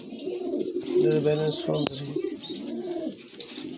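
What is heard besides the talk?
pair of pigeons cooing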